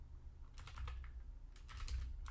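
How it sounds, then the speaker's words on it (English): Quick clicking keystrokes on a computer keyboard come in two short flurries with a pause between, quiet and close, over a low steady hum. "If you can hear me typing, I apologize."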